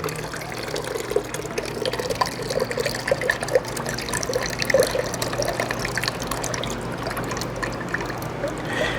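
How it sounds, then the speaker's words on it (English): A SunSun canister filter part being rinsed in clean water, a soft steady trickle and splash with small intermittent drips and sloshes, fairly quiet and close. "I'm just going to give that a rinse in some clean water."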